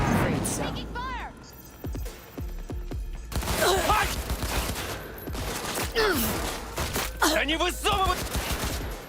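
A firefight in the Cyberpunk 2077 video game, with bursts of rapid gunfire and impacts scattered through the clip while voices shout and talk over it.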